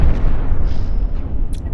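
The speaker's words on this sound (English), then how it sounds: "I like the sound the deck cannons make." Deck cannons firing on a ship in a video game, a loud continuous rumbling barrage of booming blasts with no talk.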